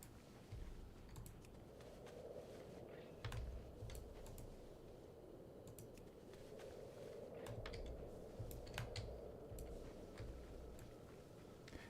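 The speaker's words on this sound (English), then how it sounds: "And you'll hear me pounding on my keyboard." Heavy-fingered typing on a computer keyboard at a home desk: quiet, continuous clattering keystrokes in uneven bursts, with no talking.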